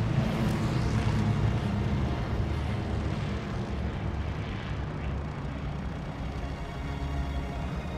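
A continuous, droning propeller aircraft engine roar from a Battle of Midway video game campaign, steady and loud throughout with no voices.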